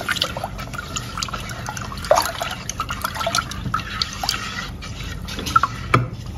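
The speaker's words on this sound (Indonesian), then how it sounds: "tambahkan 800 ml air. Aduk-aduk kembali." Water is poured into a pot and stirred while a cucumber iced drink is made, giving close liquid sloshing and trickling broken by scattered clinks and splashes.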